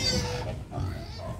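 Native pigs grunt and oink steadily throughout, close by and fairly loud as they wait to be fed, with a person talking over them.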